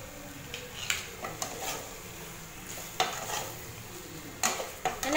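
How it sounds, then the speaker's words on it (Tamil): Brinjal masala fry being stirred with salt in a pan, giving soft scraping and occasional clinks of a spoon against the pan over a faint sizzle, with several sharper knocks. "இப்போ இது கூட பார்த்தீங்கன்னா உப்பு சேர்த்துட்டு மிக்ஸ் பண்ணி விட்டுருங்க."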